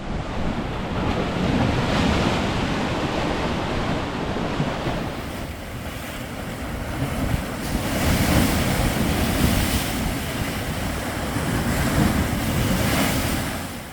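Sea waves surging into gaps between coastal rocks, a loud continuous roar of surf with repeated swells and crashes, mixed with heavy wind buffeting the microphone throughout.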